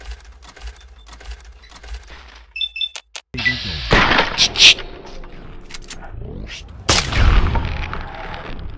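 Gunfire aimed at a radroach in the video game Fallout 3: a few sharp shots around the middle and again near the end, sounding close and loud over game ambience, with bursts of noisy clatter between them.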